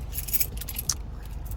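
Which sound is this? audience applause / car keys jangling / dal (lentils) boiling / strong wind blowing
car keys jangling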